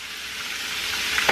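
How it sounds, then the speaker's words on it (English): Catfish fries in deep grease with a steady, close, crackling sizzle and no voices. "My grease is pretty deep, so that it's almost kind of frying both sides initially."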